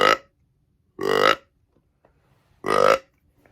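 Flex Tone Extractor deer call set to buck, blown in three short, deep, raspy grunts, the last two spaced more than a second apart, loud and close with quiet gaps between.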